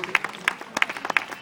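Wedding guests breaking into a short, light burst of clapping, a handful of sharp separate claps at moderate distance, quiet and brief.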